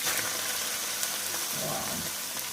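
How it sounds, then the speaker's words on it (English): Callaloo hits a hot pot and sizzles loudly in a continuous hiss and crackle, with a faint stirring clatter partway through and no talking. "Want to get a nice sizzle when you put that into the pot."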